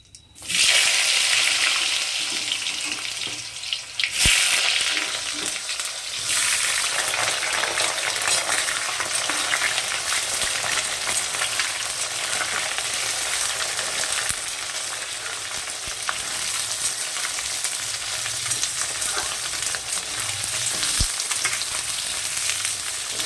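Potatoes dropped into hot mustard oil in a wok over a cumin and bay leaf tempering set off a loud, steady, close sizzle that keeps going without a break, with no talking.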